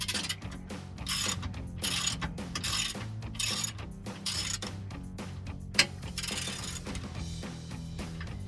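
A ratchet with an 18 mm socket works the skid plate bolts on a Jeep Wrangler TJ: steady, close metallic clicking in repeated short bursts, with one sharper clink partway through.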